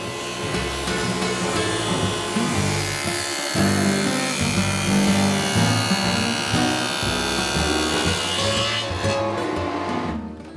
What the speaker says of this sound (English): With the frame pieces made, I cut 45-degree miters on the ends